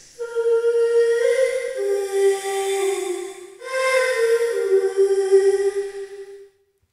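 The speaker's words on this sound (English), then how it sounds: "I'm using Antares Autotune and the LX480 Essential together." A voice processed through Antares Autotune and an LX480 reverb, sung as sustained pitched tones that glide between notes like an otherworldly instrument, in two long phrases with a brief pause between, lush reverb tails and no other sound.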